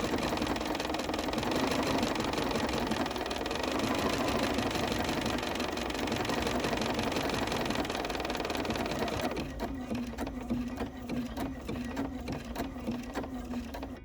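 A sewing machine runs steadily through a decorative heirloom stitch, a close, continuous whirring hum that shifts near the end into a clearer, regular pulsing as the stitch pattern changes.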